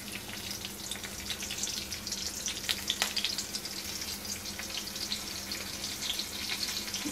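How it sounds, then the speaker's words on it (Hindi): Green chilies hitting hot oil in a home kitchen give a steady, soft sizzle and crackle, continuous and fairly faint, with a few small pops and no talk. "जब गरम हो जाए तो ये ग्रीन चिली डाल देंगे"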